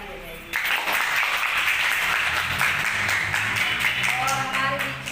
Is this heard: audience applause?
yes